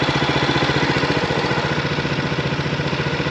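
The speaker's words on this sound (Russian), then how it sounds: "Началась обкатка, я вышел в речку. Мотор работает." A Hangkai 7 hp four-stroke outboard motor runs at low revs during break-in on a river, giving a steady, close, pulsing putter with no voices.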